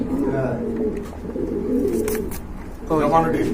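A pair of Lahori pigeons, fully marked birds sitting over an egg, give low throaty coos that swell and fade in a steady rhythm, close by, with someone talking over them throughout.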